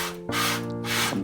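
A hand sprayer mists water onto screen printing film during T-shirt screen printing, two short hissing spray bursts close up with a brief pause between them, no talking.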